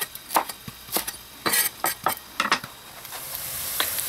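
Tofu fries in a pan with a soft, steady sizzle, broken by several sharp clinks and scrapes of a utensil against the pan as the pieces are handled.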